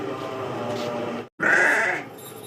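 A goat kept in a shaded pen with a fan running bleats twice close by, a long loud cry, a brief gap, then a second, harsher bleat.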